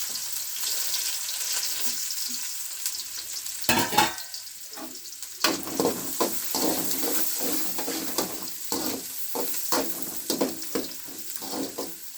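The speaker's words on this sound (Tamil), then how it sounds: "கடுகு பொரிச்சு நம்ம அரிஞ்சு வச்ச வெங்காயத்தை சேர்த்துக்கலாம்" Chopped onions are tossed into mustard seeds popping in hot oil for village-style egg rice. A burst of sizzling gives way to a steady fry, punctuated by repeated scraping and stirring knocks. The sound is close, with no speech.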